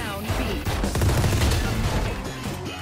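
Shotgun fire in a video game, heard as dense, loud, overlapping blasts that fill the whole moment, with no talk over them.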